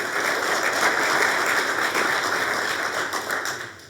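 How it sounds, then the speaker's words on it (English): Steady, dense applause from an audience at a golf club town hall meeting for Randy Coomer, sustained and fairly loud for several seconds before starting to fade. "Please give Randy a round of applause."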